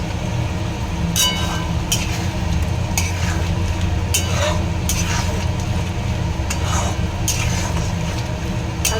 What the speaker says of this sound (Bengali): আলুগুলোকে ছেড়ে দিলাম ছেড়ে দিয়ে কষিয়ে নিই